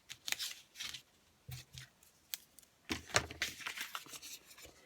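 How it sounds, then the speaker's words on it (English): Double-sided tear-in tape is ripped by hand during papercraft, giving several quick, faint crackling tears and paper handling noises, scattered in short bursts with quiet gaps between them. "I'm going to use tear-in tape again, which is a double-sided tape, which is very easy to use because you can just rip it against your finger."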